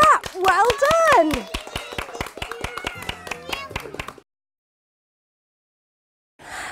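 A children's movement class claps hands together in a long run of sharp, roughly steady claps lasting about four seconds, with an adult voice singing or talking over the opening, then silence.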